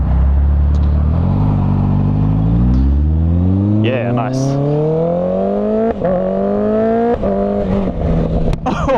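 Large heavyweight motorcycle engine revving and accelerating through rising gear pulls while riding, loud and close, with someone speaking briefly over it.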